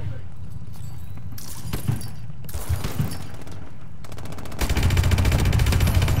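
Gunfire in Call of Duty Advanced Warfare: scattered shots early, then a loud, rapid automatic burst near the end, with a player talking in between.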